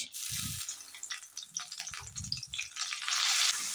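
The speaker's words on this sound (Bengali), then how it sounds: "আদা রসুন বাটা দিয়ে ভালো করে কষিয়ে নিয়েছি" Ginger-garlic paste sautéing in hot oil over low heat gives a steady close sizzle and crackle, with low scraping thumps of stirring in the pan and the frying growing brighter near the end.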